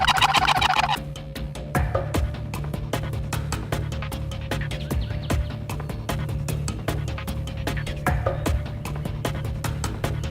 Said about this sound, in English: we were hearing a really long and deep gobble